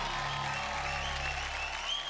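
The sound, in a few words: applause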